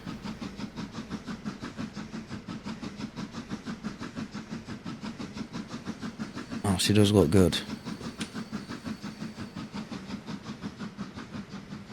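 Video game train running along a track near a bridge in a Yorkshire landscape, a steady rhythmic clatter throughout with a brief louder hissing burst midway, under casual talk.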